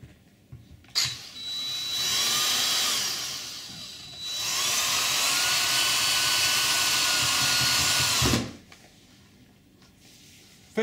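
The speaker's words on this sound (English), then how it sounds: "sometimes if you're a little bit shaky with the drill, it might be that you have to put the pilot hole in" Power drill boring a small pilot hole into a UPVC door, two sustained high-pitched whining bursts close up, separated by a brief pause, then stopping abruptly.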